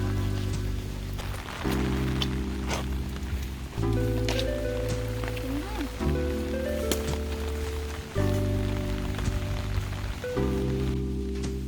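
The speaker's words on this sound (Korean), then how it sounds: "둔둔이는 이렇게 많은 비를 태어나서 처음 맞아봤을 것 같은데 엄청 좋아하더라고요" Heavy monsoon rain pours down during a walk with a dog, a continuous patter heard under prominent background music.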